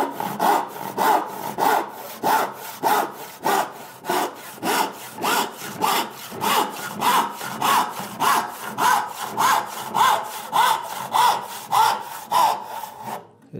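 Hand rip saw cutting along the grain of a board clamped in a vise, about thirty even, rhythmic strokes in a close, loud rasping back-and-forth with no talking.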